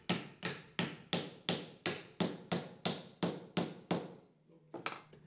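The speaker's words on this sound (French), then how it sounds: "Enfoncez les petits blocs à l'aide d'un marteau." Small wooden blocks driven into a hollow tube with a hammer: about eleven sharp, evenly spaced blows ring out close and loud, followed by a short pause and a softer final knock.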